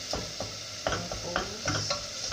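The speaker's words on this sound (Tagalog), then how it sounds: "Sangag natin. Dagdagan po natin ang ating bawang." Garlic sautéing in a pan for chicken sopas, with a steady sizzle broken by repeated stirring scrapes and clinks of a utensil against the pan, close and moderately loud.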